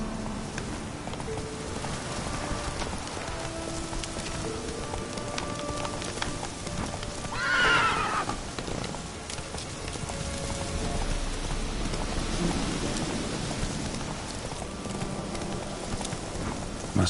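Roach, a horse in The Witcher 3, runs at a steady pace with continuous hoofbeats, blended into a dense wash of falling rain throughout.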